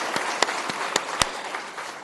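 Sparse clapping from an audience during Harry and Meghan's Africa tour event in Cape Town: a few distinct, separated claps ring out over a soft background wash, fairly quiet and brief.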